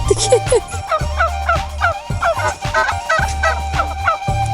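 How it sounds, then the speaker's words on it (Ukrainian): Turkeys gobble repeatedly nearby in Albania, loud rattling calls overlapping in quick bursts with short pauses between them. "ну, індики бігають"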